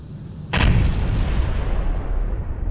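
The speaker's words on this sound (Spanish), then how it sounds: "una explosión sacude el fuselaje" A sudden heavy explosion bursts aboard an airliner climbing at altitude, a sharp onset followed by a sustained loud roaring rumble that persists to the end.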